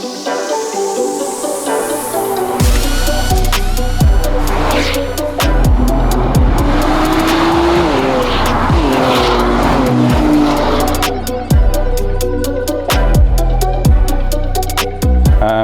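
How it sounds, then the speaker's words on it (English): 2024 Nissan Z NISMO on track in Sport Plus mode, engine revving hard with repeated sharp downshift burbles and pops between gear changes, tires squealing, loud and close throughout. "on the downshifts, if you're in Sport Plus mode, you hear the little burbles on the downshifts"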